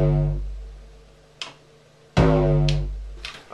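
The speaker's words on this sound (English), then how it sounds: "When you stick it in the Mackie desk, put a bit of distortion on it, it sounds like that" An 808 kick drum run through a Mackie mixing desk with added distortion, heard as a few booming, gritty hits with long sustained low tails, the last one sounding louder and fuller than the first.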